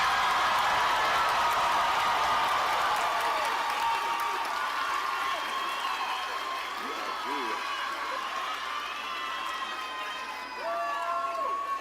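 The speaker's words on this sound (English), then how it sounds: "Let's give a round of applause to the class of 2025." Graduation ceremony crowd for a high school class of 2025, with sustained applause and cheering from a large audience throughout, a few whoops and shouts rising over the dense steady clapping.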